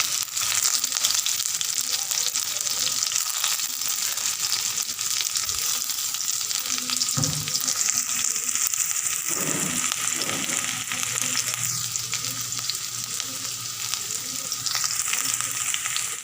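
Onions fry in mustard oil, giving a continuous close sizzle and crackle with a few soft stirring scrapes and knocks against the pan.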